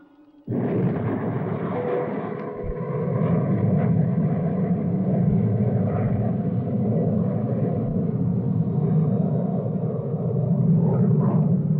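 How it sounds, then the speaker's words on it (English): A cartoon spaceship's retro rocket fires for landing, bursting into a loud, sustained roaring rumble that holds steady for several seconds without letting up; no speech. "Firing retro rocket"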